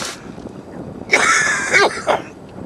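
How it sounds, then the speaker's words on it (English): A man's harsh cough outdoors while fishing, a short burst followed by a louder raspy fit with a couple of strained pulses, close to the microphone. "A bit of a bad cough there."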